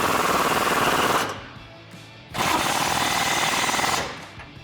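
An impact wrench rattles in two long, loud bursts with a short pause between them as it tightens Jeep Gladiator body mount bolts using an 18mm deep socket, close up and with no talking.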